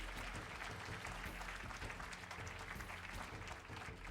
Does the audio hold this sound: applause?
yes